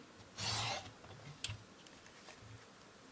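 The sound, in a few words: paper trimmer trimming a craft card base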